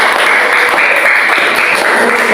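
Students in a classroom applaud after a group presentation. The clapping is dense, loud and continuous, filling the whole short stretch with no voices over it.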